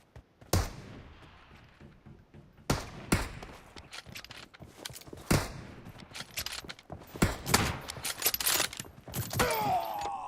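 Gunfire rings out in a shooter video game as several sharp, separate shots and short bursts crack across the clip at irregular intervals, fairly faint overall against a quiet background.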